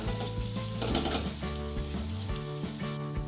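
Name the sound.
sliced onions frying in oil while being stirred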